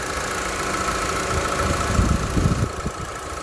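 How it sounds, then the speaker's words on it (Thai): A 2018 Honda Civic 1.8 engine idles with a steady, even hum and faint mechanical ticking, heard close and alone for a few seconds. "และฟังเสียงเครื่องครับ"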